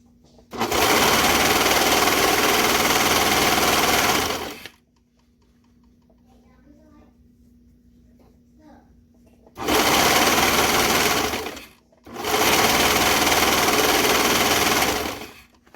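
A sewing machine stitching joggers runs in three loud, steady whirring bursts of several seconds each, separated by quiet pauses with faint handling noises.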